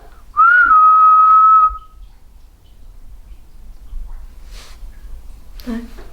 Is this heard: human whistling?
yes